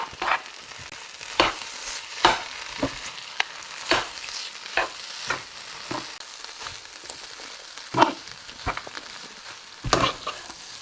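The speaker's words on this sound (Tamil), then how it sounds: "நான் ஒருக்கா சும்மா ஒருக்கா கலந்து விட்டுட்டு கொத்த போறேன்." Mutton kothu is stirred in a frying pan: sharp, irregular scraping strokes of a spatula land every second or so over a low, constant sizzle, close and fairly loud, with no talking.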